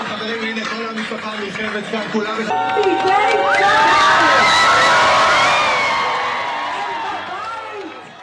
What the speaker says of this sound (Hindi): आप इस भीड़ को देखिए, इस भीड़ के उत्साह और खुशी को देखिए